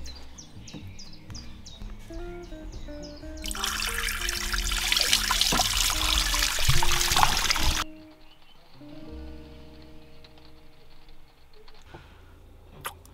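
Water runs steadily from a tap for a few seconds with a broad hissing rush, then stops abruptly, leaving soft background music.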